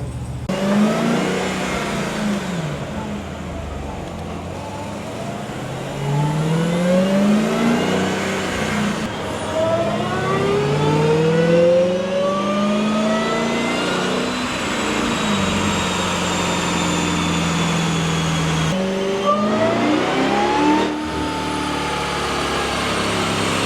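A Dodge Hellcat engine, tuned on 91 octane fuel, revs on a dynamometer through repeated rising pulls that climb, drop back and climb again, loud and close throughout with a steady roar beneath.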